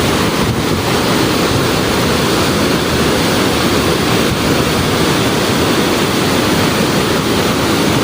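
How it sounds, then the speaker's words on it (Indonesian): Heavy river water released from the Lemah Abang dam after three days of rain roars in a loud, steady, unbroken rush that fills the whole stretch. "Aliran sungai sangat deras sekali guys, tapi guys ini buangan dari bendungannya nih guys ya."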